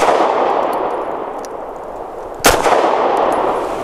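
A single sharp pistol shot from a Taurus GX4 fitted with a Lakeline ported barrel cracks out loudly mid-clip over a steady background hiss, with no talking.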